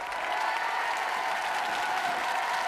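Sustained applause from a large studio audience at a televised French singing-competition final, greeting a singer, steady and dense throughout.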